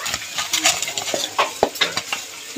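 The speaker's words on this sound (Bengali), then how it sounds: "এবার আগে থেকে আমি আলু ভেজে রেখেছিলাম সেটাকে দিয়ে দেবো" Fried potatoes being tossed into a cooked spice paste in a pan, with a series of scraping spatula stirs and light sizzling over about two and a half seconds, close and moderately loud, no talking.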